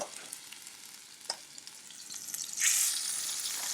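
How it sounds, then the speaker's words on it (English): Salmon hitting a hot pan and bursting into a loud, steady sizzle after some quieter crackling and light clatter, close by. "This is going to sizzle pretty good."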